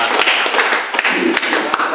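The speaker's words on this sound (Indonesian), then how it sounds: "Tepuk tangan dulu untuk kita semua." Audience clapping at a gathering, a dense patter of hands with a few sharper claps standing out, steady and fairly loud throughout.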